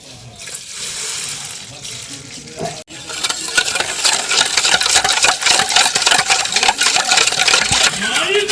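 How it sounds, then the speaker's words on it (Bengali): Hand whisk beating butter, salt and sugar in a bowl for a semolina cake, a fast continuous scraping clatter, loud and close, following a brief metallic clink. "এবার হ্যান্ড উইক্সের সাহায্যে খুব ভালোভাবে মিশিয়ে নেব।"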